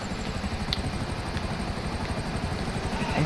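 A helicopter in the video game GTA V gives a steady, loud rotor chop with a continuous engine whine, unbroken for the whole stretch.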